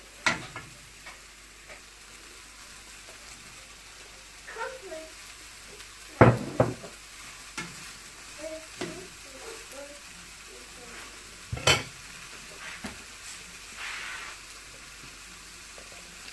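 Prawn fried rice being stirred in a hot pan, with soft sizzling and occasional sharp scrapes and clinks of a utensil against the pan, some louder than others, over a low background hum.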